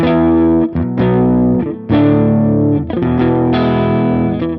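Electric guitar through a saturated Amplitube 5 amp simulator, heavy distortion playing sustained chords and notes in a few loud phrases, rich and buzzing, with brief gaps between them.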